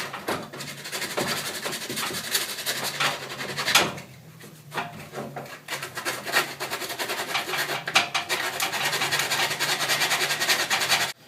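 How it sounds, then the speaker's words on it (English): Plastic car bumper tabs are hand sanded with 80 grit sandpaper, giving close, continuous rasping strokes in a back-and-forth rhythm with a short pause midway, loud and without talk. "I've just got some 80 grit by hand, and I'm just going to sand this to make sure all that's off of there."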